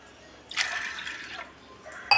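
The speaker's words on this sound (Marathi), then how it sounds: "बघा, इथे मी आता पाणी घालून घेणार आहे।" Water is poured from a glass into a pressure cooker holding washed lentils, a short close splash and gurgle of filling liquid followed by a small clink at the end.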